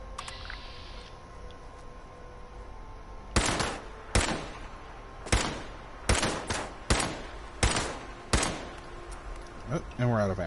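Gunfire in Fallout 76 rings out as about nine sharp, loud shots spaced roughly a second apart over a quiet background hum, ending as the ammunition runs out.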